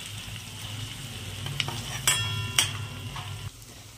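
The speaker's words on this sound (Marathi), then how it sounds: "त्यामध्ये आपण सुकी लाल मिर्च टाकणार आहे. ती पण थोडीशी अशी परतून घेणार आहे लाल मिर्च." Dry red chillies crackle and sizzle in hot oil in a pan, a steady close frying hiss broken by a few sharp spoon scrapes against the metal.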